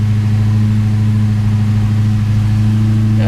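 A Ford Fairmont XC GXL engine held at steady high revs with the wheels spinning, a loud, constant droning hum close by with no talk.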